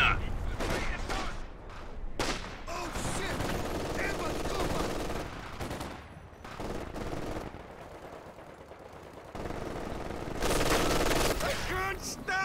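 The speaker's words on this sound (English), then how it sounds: "Barrage too long right there." An artillery barrage in a video game alongside machine-gun fire, with repeated heavy volleys and bursts of shots rolling through the stretch, fairly loud, while a voice talks in the background.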